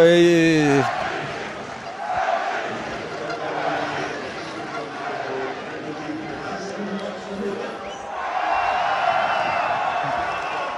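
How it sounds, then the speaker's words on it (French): Rugby stadium crowd at a European Nations Cup match between Belgium and Georgia, a sustained roar of cheering and shouting from many voices that swells at the start and again near the end. "la foule qui salue ses joueurs"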